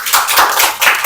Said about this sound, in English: A big clap for Atulya